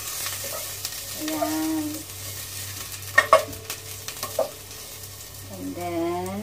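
Ginger sizzles and fries in a pan toward golden brown, a steady crackle with sharp clicks of a utensil stirring and scraping, while a voice briefly talks over it.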